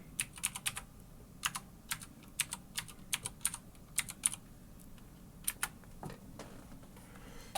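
Keys clatter on a computer keyboard during a login, in quick bursts of sharp clicks with short pauses between, close and fairly quiet over a low background hum.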